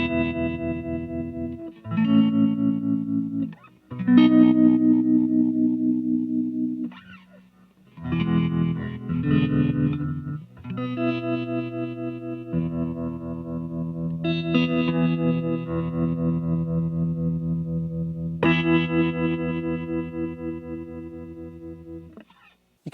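An electric guitar played through a Fulltone Supa-Trem2 v2 tremolo pedal, chords pulsing with a rhythmic, throbbing volume wobble, loud and close with pauses between phrases.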